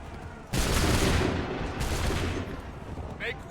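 Soldiers fire a massed musket volley in Assassin's Creed 3, a sudden loud crackling burst followed by a second wave of shots and a fading rumble.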